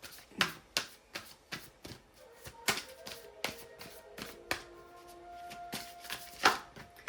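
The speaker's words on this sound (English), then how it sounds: "We're going to shuffle again." Tarot cards are shuffled by hand in a quiet room, a series of crisp riffling bursts and taps in an irregular rhythm, close and fairly faint, with a soft tone lingering in the background.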